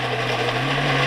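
A kitchen mixer grinder whirs loudly and steadily as it grinds squeezed, soaked soya chunks with green chillies, a short burst of dense, high, rough motor noise.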